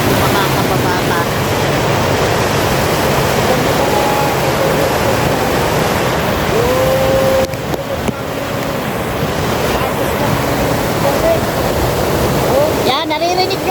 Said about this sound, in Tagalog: Yung tunog ng malakas na bagsak ng tubig.